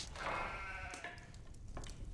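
A single sheep bleats in a wavering cry in the video game Stronghold 2, over a low background hum, fairly quiet and close, followed by faint clicks.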